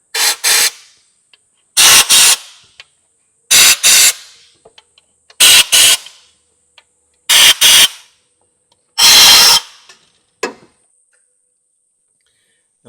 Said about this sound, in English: I want to check out all these bolt holes, so I am just going to blow them out initially